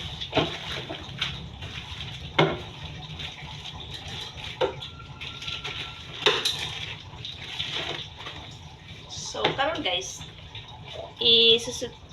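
Tap water runs and splashes as raw chicken breast is washed under it, with scattered drips and clatters and soft talk over the flow.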